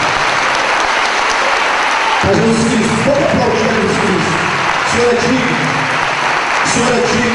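A church congregation applauds with steady, dense clapping that fills the room, while low sustained keyboard tones join partway through.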